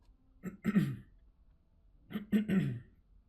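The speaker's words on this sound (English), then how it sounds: "Can't clear my throat." A man clears his throat twice, two close, rough bursts separated by a short quiet pause, loud and near with no talk around them.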